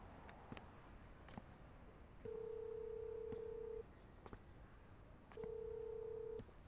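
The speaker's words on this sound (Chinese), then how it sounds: "我打个电话。" A telephone is dialed to place a call: two separate steady tones of about a second each, with faint clicks and handling noise in between in a quiet room.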